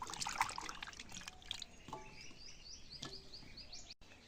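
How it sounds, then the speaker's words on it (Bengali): Sweet pumpkin is rinsed in water, giving a faint, close trickle and splashing, while birds chirp and twitter lightly in the outdoor background. "এই মিষ্টি কুমড়া ধুয়ে তুলতেছি সুন্দর করে।"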